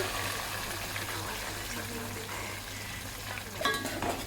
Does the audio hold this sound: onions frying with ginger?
yes